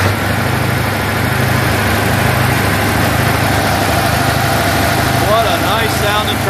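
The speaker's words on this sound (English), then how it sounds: "What a nice sounding tractor." A Massey-Ferguson 2805 tractor engine idles steadily up close, a continuous low chugging rumble that barely changes from start to finish.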